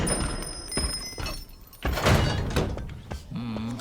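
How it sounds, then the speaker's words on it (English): A robot opens a sliding door at a shopping mall, heard as heavy thunks and a mechanical sliding rumble, with a voice and other busy sounds around it. "So, Jeff easily opened the door"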